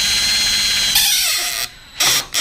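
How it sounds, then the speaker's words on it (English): A power drill whines close and loud as it bores into a rivet on a boat hull, the pitch dipping under load before the motor cuts off, then a short final burst. "Either right in the center of that rivet, dead center, this is one that's in the boat. Drill, the head will eventually pop off."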